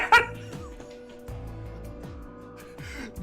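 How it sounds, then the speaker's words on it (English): A dog in the Virtue's Last Reward game gives one sharp, close yip at the start, followed by quieter game music and sound effects. "Dog!"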